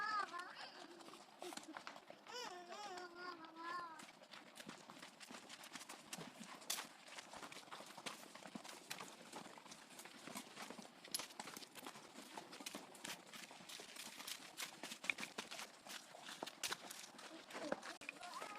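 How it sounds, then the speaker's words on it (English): Many horses' hooves clip-clop on a downhill path, a steady, fairly close stream of overlapping footfalls throughout, with brief animal or vocal sounds early on. "There's a lot of horses."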